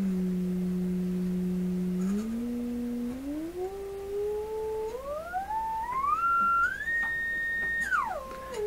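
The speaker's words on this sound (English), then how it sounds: "let's sweep all the frequencies here and see what" Steady sine tone from a signal generator played through a Florida AM/FM/SW tube radio, holding low, then stepping and gliding upward in pitch before dropping back, loud and alone with a faint harmonic above.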